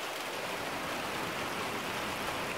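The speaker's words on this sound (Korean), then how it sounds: "아유 이놈의 빗소리 때문에 잠을 못 자게 하네요." Heavy morning rain pours steadily in a dense, even hiss with no breaks, close and fairly loud, with no voices.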